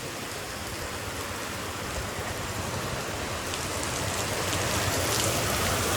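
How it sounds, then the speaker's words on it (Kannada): Heavy rain pours outside as a dense, unbroken hiss that swells slightly louder toward the end, with no voices heard. "ಪೂರ ದಬಾಶ ಆದ್ ನೋಡ್ರಿ ಮಳೆ ಐತಿ."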